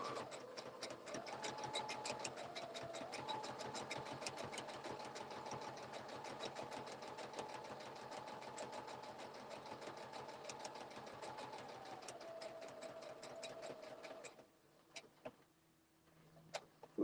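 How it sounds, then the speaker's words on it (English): A domestic sewing machine stitches steadily at close range, its rapid even ticking whir holding for about fourteen seconds before stopping, followed by a few quiet clicks and handling sounds. "For those of you who are kind of intimidated on a sewing machine"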